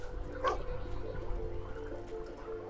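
A dog in the video game Fable II gives a short bark or yip near the start, set against a steady game soundscape and low hum that continue throughout.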